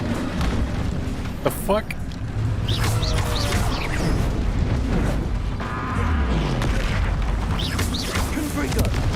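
Spell explosions from Confringo and Bombarda in Hogwarts Legacy burst out as loud booms and blasts over a continuous bed of game noise, with someone talking through them.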